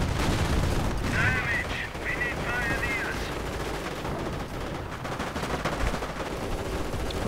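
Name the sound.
machine gun fire in a video game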